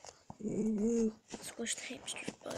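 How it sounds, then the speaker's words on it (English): A dog growls and whimpers in a low, drawn-out rumble close by, followed by shorter grumbles, while a person speaks over it. "that's my dog"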